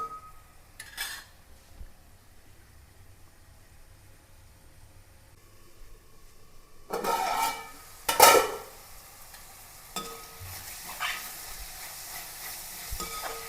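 Onion, green chili, ginger and garlic sautéing in a pan for chicken curry, a soft intermittent stirring and sizzle that is quiet at first, then louder scraping bursts near the end, with no talking.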